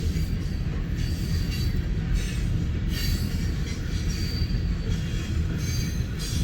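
A freight train rumbles past close by in Fremont, Nebraska, a loud steady roar of rolling railcars with high metallic wheel squeal and faint clacking throughout, no voices.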